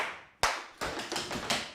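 Hand claps in an intermediate clogging routine, a handful of crisp, close hits with light taps in between, heard without talking.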